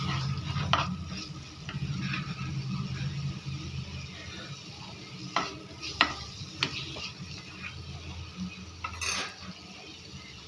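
Mushroom curry paste with turmeric being stirred in a hot pan: a soft continuous sizzle with scraping of a spoon against the pot and a few sharper metallic clinks, moderately quiet and close.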